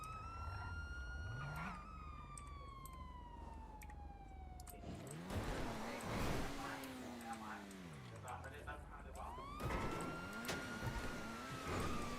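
In a city driving video game, a police car siren wails in rising and falling sweeps as it chases another car, loud and close, with engine noise and voices cutting in between the wails.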